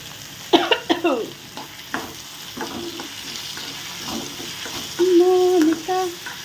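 Mint chutney ingredients, including tomatoes and salt, sauté in a hot pan with a steady sizzle. Sharp scrapes and clinks of stirring come early, and a brief tonal squeak sounds near the end.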